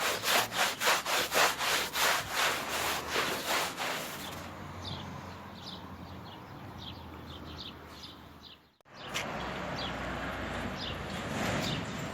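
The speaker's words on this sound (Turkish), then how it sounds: "Bir yandan inşaat işi devam ediyor." Rhythmic back-and-forth sawing from nearby construction work, loud strokes for about four seconds, then fainter rasping and scraping with bird calls over a quiet outdoor background.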